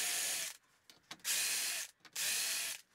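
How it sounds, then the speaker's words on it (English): A power drill whirs in two sustained bursts with a short pause between, drilling hinge holes in a wooden board, close by and fairly loud, no talking. "We're not going to do anything but drill both holes on them."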